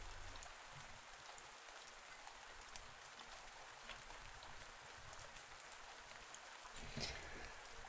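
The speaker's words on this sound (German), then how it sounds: "Gut, dass es regnet" Steady rain falling in the farming video game Pumpkin Days, a soft even hiss of drops on surfaces with a few faint ticks, continuous and quiet.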